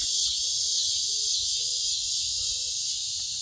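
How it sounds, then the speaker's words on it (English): Cicadas in the woods at night keep up a loud, continuous, high-pitched buzzing drone that holds steady from start to finish, with faint low rustles underneath. "the old cicadas chirping in the night"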